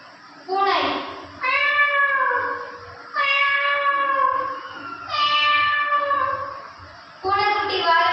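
A performer at a school arts festival mimicry competition imitates a cat with a voice, giving about five drawn-out, rising and falling meows separated by short pauses, loud and close.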